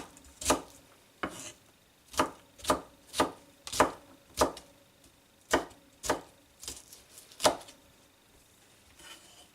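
Tomatoes are chopped with a sharp knife on a board, about a dozen crisp, evenly paced knocks, close and clear with quiet gaps between strokes and no talk.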